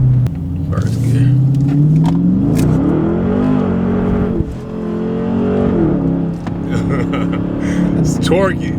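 Car pulling hard in first gear with a strong, rising engine roar that climbs in pitch, loud and close from inside the cabin, with people talking over it.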